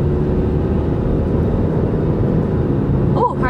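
A car named Sputnik driving along, a steady low engine and road rumble from inside the cabin, with a voice briefly cutting in near the end.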